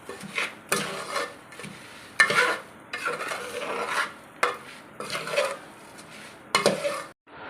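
A spoon scrapes and stirs a sukhadi mixture with almonds and edible gum in a pan, in repeated strokes with short pauses between them, close and moderately loud with no talking.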